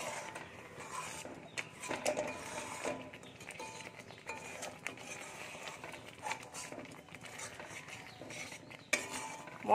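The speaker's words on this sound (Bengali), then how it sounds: "কাজু বাদামটা দিয়ে একটু বারবার করে নাড়াতে হবে" A spoon scraping and clinking against a kadai as cashew paste is stirred, in quiet, irregular metallic taps and scrapes, close but faint, with no talk.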